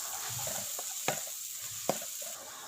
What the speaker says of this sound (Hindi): अब इसमें जाएंगी आधा खाने वाला चम्मच सुरख मिर्चें, आधा चाय वाला चम्मच हल्दी, आधा खाने वाला चम्मच पिसा हुआ गरम मसाला, और मसालों के साथ 10 से 15 सेकंड के लिए पका लेंगे।